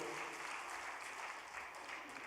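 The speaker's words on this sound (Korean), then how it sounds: "박수가 저절로 나오네" Audience applause at a Korean religious gathering after a young man's report, a steady dense wash of clapping held at an even level throughout, with no voices standing out.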